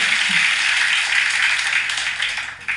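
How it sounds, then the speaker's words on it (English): Clapping and applause fill the space as one person claps outside a window in a garden, a steady, bright patter of hand claps that carries throughout at moderate loudness. "There's one guy clapping outside the window in the garden as well."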